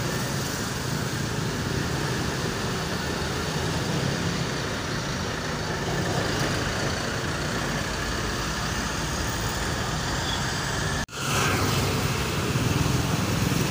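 A Po. Agra Mas intercity bus pulling out of the Bambu Apus terminal in East Jakarta, bound for Malang: a loud, steady engine roar with continuous road rumble, briefly cut off near the end, then resuming.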